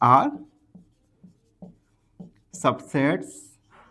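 Handwriting during a maths lesson on sets: a few short, soft scratching strokes fall between bursts of a man's speech, faint and close.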